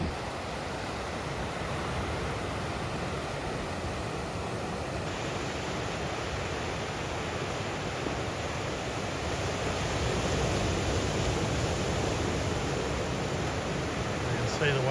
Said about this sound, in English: You can see the waves peter out just here.